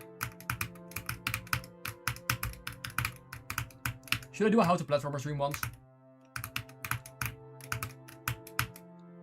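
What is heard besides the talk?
typing on a computer keyboard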